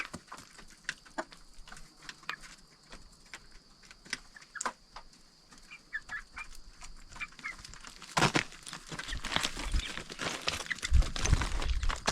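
Chickens and chicks cluck and scratch around a rural coop at dusk, soft scattered calls and pattering that grow busier and louder toward the end, with no talking.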